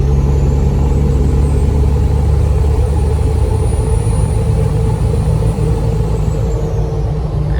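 A 2003 Ford 7.3 diesel pickup engine drones loudly and steadily at freeway speed during a test drive with the foot off the gas, a deep constant rumble with road and wind noise and no talking.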